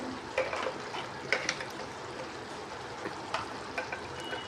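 Chili, coriander and turmeric powders sauté in hot oil for a bitter gourd curry, giving a soft, even sizzle with a few light stirring scrapes, moderately close and fairly quiet.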